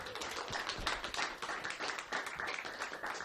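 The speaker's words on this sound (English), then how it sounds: "Big round of applause" Audience clapping at a live Christmas show as a volunteer is called onstage, a dense, steady patter of many hands, fairly quiet and distant throughout.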